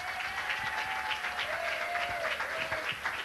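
A studio audience at a live radio broadcast applauds steadily, the dense clapping holding an even level for the whole stretch with a faint tonal whistle running through it.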